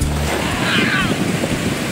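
Sea surf rolling onto a shore in windy weather, a steady broadband wash with a brief low rumble at the start, close and fairly loud with wind buffeting the microphone throughout.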